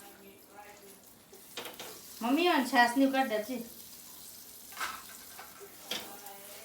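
Pav buns fry in butter on a hot pan for pav bhaji, a soft steady sizzle running underneath while a person talks nearby.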